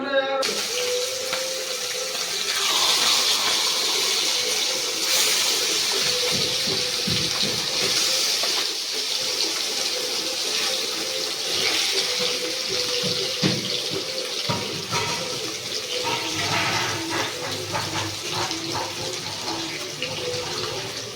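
Golden cup fish fries in hot oil in a home kitchen, giving a steady, loud hissing sizzle that fluctuates throughout, with occasional talk over it.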